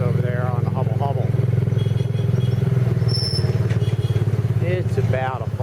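Habal-habal motorcycle taxi carrying riders along an island road, a steady engine drone running throughout with rattles and brief squeaks, close and loud under ongoing talk.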